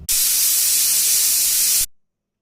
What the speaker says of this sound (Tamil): மூடி போட்டு 3 விசில் கொடுக்கலாம்